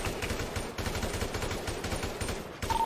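Bursts of gunfire fill a Grand Theft Auto roleplay shootout on Mount Chiliad after a jewelry store robbery, rapid automatic volleys rattling in clusters with brief gaps, fairly loud and close, with no voices.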